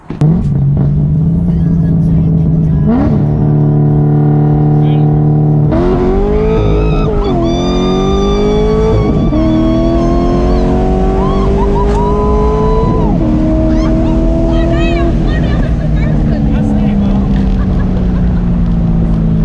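A 500hp cammed C6 Corvette engine idles with a lumpy, loud rumble, then revs hard and climbs through several rising pulls as the car accelerates, close and dominant throughout.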